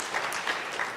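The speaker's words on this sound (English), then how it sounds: "Now I wanted a little bit of applause." An audience at a science lecture gives a brief burst of clapping, a dense, even patter of many hands heard from within the hall.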